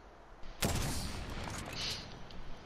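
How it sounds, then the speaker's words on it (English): Charge rifle shots in a first-person battle royale shooter, a burst of loud broadband gunfire starting sharply and ringing on for about two seconds, with a brighter crackle near the end and no talk. "Charge rifle, I think?"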